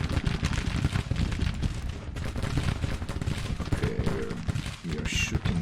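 Musket volleys and cannon fire in a Grand Tactician Civil War battle, a continuous crackle of massed shots with occasional heavier booms, steady and loud throughout.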